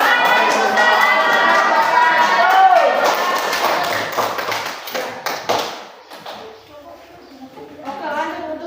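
A classroom audience applauding after a group presentation, scattered close hand claps and taps mixed with children's voices, thinning out midway, with people talking over and after the clapping.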